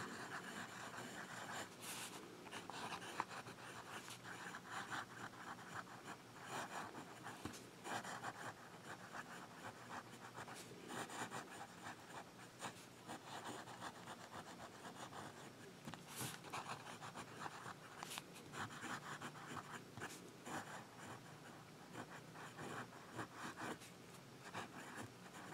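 Esterbrook fountain pen with a medium nib writing on paper, a soft continuous scratchy rasp of strokes with brief pauses and lifts, close and quiet, no talking.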